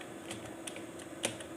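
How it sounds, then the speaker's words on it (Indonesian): Light keystrokes on a computer keyboard, a few sparse taps close by while someone types a message to YouTube creator support, with no talking. "saya langsung menghubungi bantuan pihak YouTube ya, dengan cara saya ketikkan di sini"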